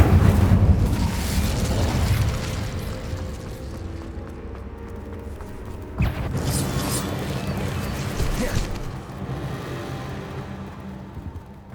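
The Incendio fire spell in Hogwarts Legacy erupts as a loud, sustained roaring blast with a heavy impact around the middle, followed by a long rumbling tail.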